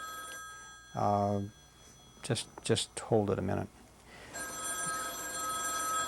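An old telephone bell rings in a sustained, harmonic burst, then gives several shorter rings in a broken rhythm, fairly loud and close, with someone speaking briefly between the rings.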